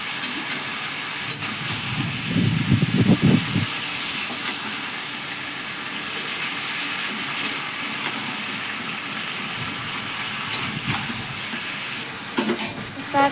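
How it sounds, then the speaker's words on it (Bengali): Malabar spinach (pui shak) cooking in a pan, with a low steady sizzle and a short burst of stirring and scraping near the start, then a quieter simmer. "এরপর নেড়ে চেড়ে আবার ঢাকা দিয়ে দেবো।"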